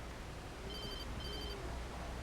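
A phone rings in the Alan Wake video game, two short electronic ring bursts repeating over a steady low background hum, fairly quiet and with no talking.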